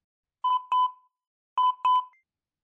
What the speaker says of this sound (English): Another notification.